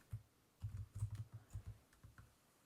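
Quiet, close typing on a computer keyboard: short bursts of soft key clicks in an uneven rhythm with brief pauses, nothing else heard.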